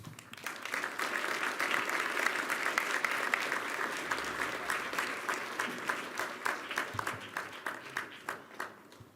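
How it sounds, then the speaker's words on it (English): Warm audience applause after a speech by the United Nations Secretary-General, a steady wash of many hands that gradually breaks into separate claps as it fades out. "I think you also heard a warm applause that your call to action was well received."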